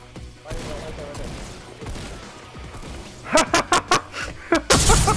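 Rapid video game gunfire, a burst of sharp, loud shots in quick succession near the end, cutting through game noise and a player talking over voice chat.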